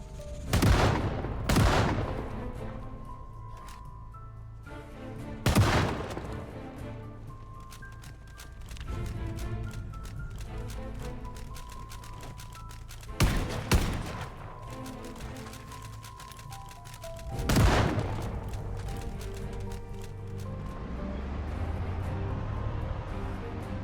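Gunfire from a raider in the survival game Project Zomboid rings out in a few sharp, separated shots spread across a longer stretch, with quieter ambient noise between them.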